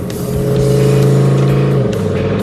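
A 1,000 hp hot rod engine drones loudly and steadily while cruising, with a deep continuous rumble that shifts slightly in pitch near the end.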